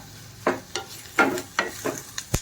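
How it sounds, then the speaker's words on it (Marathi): Onion sautéed in a pan for misal pav, heard as a string of short, close scraping stirs spaced about half a second apart over a faint sizzle, with no voices. "कांदा पण छान परतून घ्यायचा आहे"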